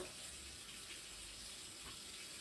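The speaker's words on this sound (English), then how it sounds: "I rinse this pan real quick." Tap water running in a kitchen sink while a pan is quickly rinsed, a faint, steady, even rush of flowing water with no talking.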